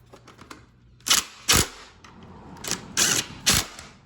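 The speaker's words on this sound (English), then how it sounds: "I always like to hand tighten it before I use an impact gun" Sharp ratcheting bursts from an impact gun tightening the seat bolts on a Honda CBR600F3 motorcycle, several short loud rattles in quick succession with brief pauses between, close by.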